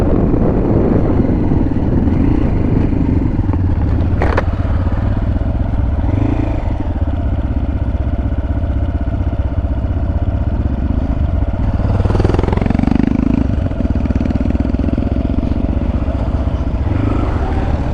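Motorcycles ride past on a road, a loud continuous engine rumble with clattering, several bikes swelling and receding close by over about eighteen seconds.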